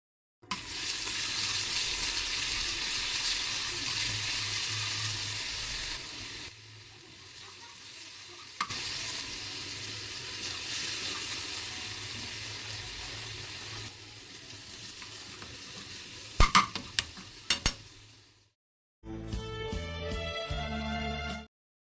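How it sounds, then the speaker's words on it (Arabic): Ghee and garlic sizzle in a pan for Egyptian fatteh in a home kitchen, giving a steady frying hiss with stirring. A few sharp clatters come near the end, and a brief harmonic tone follows a short break. "ريحة السمنة والثوم، وصوت التسبيكة في المطبخ"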